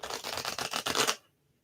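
A deck of tarot cards is riffle-shuffled in a quick, crisp flutter of rapid card flicks. It ends abruptly after about a second and is followed by near silence.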